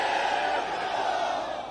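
A large crowd at a Pakistan Peoples Party political rally in Lower Dir roars and chants slogans continuously, a dense loud mass of voices filling the whole stretch.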